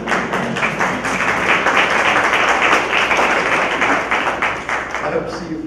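A lecture audience claps steadily in sustained, dense applause that fills the whole stretch at a fairly loud level.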